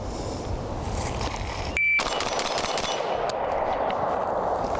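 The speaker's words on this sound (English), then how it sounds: "let's see how fast I can get 5 rounds down range" Five shots fired in rapid succession from a rifle, an IWI Tavor X95 or Steyr AUG A3, as loud cracks over steady background noise.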